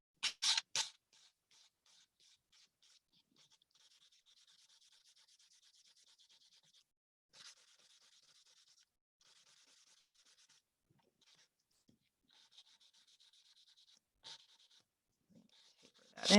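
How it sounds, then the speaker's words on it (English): A file scraping across a hard gel nail enhancement in quick, light downward strokes, repeated steadily in bursts with short pauses, close and fairly quiet, with no talking. "I like to angle my file at a 45-degree angle and file downward"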